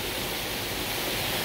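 Jungle waterfalls in remote Costa Rica pour in a loud, steady, broadband roar heard from nearby, unbroken and free of speech.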